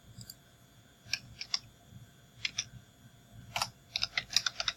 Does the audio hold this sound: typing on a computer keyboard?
yes